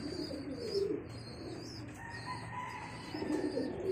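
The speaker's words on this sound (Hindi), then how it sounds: "यहाँ पर देखे अभी जो भी कबूतर है यहाँ पर" Soft, low pigeon coos recur in short bursts over a quiet room, with faint chirps and a brief flutter of wings in the background.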